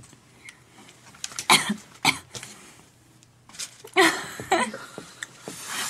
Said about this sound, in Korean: 너무 가까이서 기침하는데